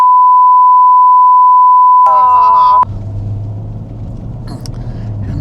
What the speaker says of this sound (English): I'm gonna have to beep it out.